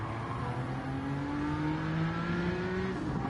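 A race car engine revs in a video game, close and steady, its pitch climbing smoothly through a long gear before it drops on a shift near the end.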